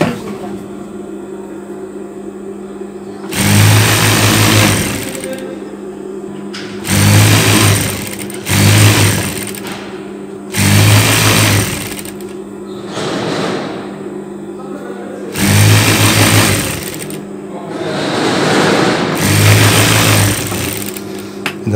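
A sewing machine stitches the side seam of a long cardigan in repeated bursts of loud, close whirring, each lasting one to two seconds and separated by short pauses with a steady background hum.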